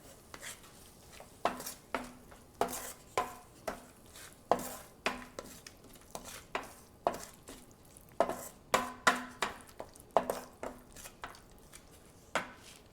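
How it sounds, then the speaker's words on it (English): Rajma masala with turmeric and salt stirred in a pot, a spoon knocking and scraping against the sides in a steady, repeated rhythm of sharp taps, close and clear with no talking. "I'm going to give this a quick stir."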